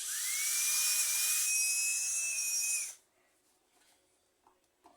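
A small high-pitched electric screwdriver whines for about three seconds while backing a screw out of a slow, noisy fan during maintenance, then stops, leaving faint clicks and handling noise.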